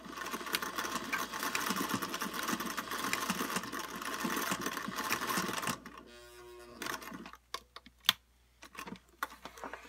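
A sewing machine stitches a zipper onto a pillow cover, running steadily with a dense mechanical whir and rapid stitching clatter, then stops, leaving a few scattered clicks and handling noises.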